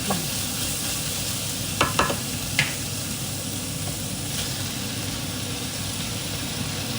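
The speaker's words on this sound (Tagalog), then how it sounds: "Lalagay ko na rin po yung ating cabbage." Cabbage frying in an oily pan, a steady broadband sizzle with a few brief clinks of a utensil against the pan near the start, close and continuous throughout.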